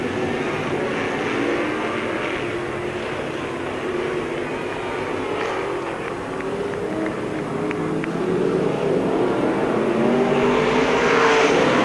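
Dirt track race cars circling Spoon River Speedway during a summer nationals event, a continuous loud roar of engines swelling and fading as the pack passes, building louder toward the end.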